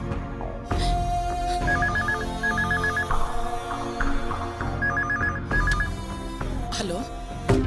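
A telephone rings in repeated short bursts of bright trilling tones, two rounds a few seconds apart, sitting under ongoing talk and background sound in a television comedy scene.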